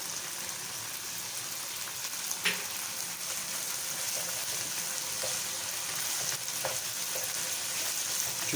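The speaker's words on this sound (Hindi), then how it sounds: "अब सिर्फ भुनाई होगी तकरीबन 5 से 10 मिनट।" Minced meat (keema) with finely chopped ginger fries over high heat in a pan, giving a steady, continuous sizzle with a few faint clinks and stirring scrapes, no voices.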